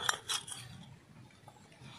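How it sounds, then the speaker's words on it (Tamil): Chopped onion tips into beaten egg in a tiny miniature bowl, giving a few quick, light clinks and taps near the start and then soft, scattered rustles, close and quiet. "வெங்காயம் போட்டுக்கலாம் முட்டையில்,"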